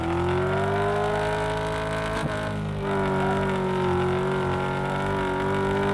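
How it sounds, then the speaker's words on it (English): A car engine in a video game, sounding like a blown Camaro, holds a steady high-revving drone with a rough, buzzy tone and a brief dip partway through, loud and close with no talk. "Why does this sound like a blown Camaro"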